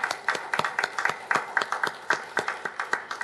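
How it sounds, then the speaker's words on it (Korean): A church congregation gives a round of applause, a scattered, rhythmic patter of many claps at moderate distance, fairly soft and even. "감사의 박수 보내드립니다"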